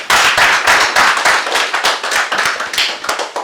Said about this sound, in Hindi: प्लीज बिस जी के लिए जोरदार तालियां